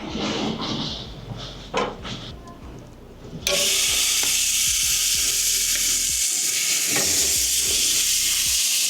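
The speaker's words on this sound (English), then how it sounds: "we're going to do some reverse searing now. We crank the temperature right up." Ribeye steak, cut in very thin pieces, reverse searing in a pan turned up to high heat; a loud, steady sizzle and hiss suddenly swells up and carries on alone after a few seconds of quieter clatter and stirring.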